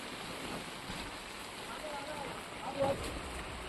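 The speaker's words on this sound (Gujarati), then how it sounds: "વરસાદ એટલો બહાર ચાલુ છે" Heavy rain pours outside during a truck journey with goods under tarpaulin, a steady broadband hiss with gusty wind noise that swells briefly near the end.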